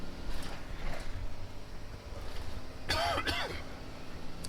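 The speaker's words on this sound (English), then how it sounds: "Apologize for the coughing" Two or three sharp coughs in quick succession, from a man getting over a cold inside a converted bus, stand out against low background rumble and quiet handling noises.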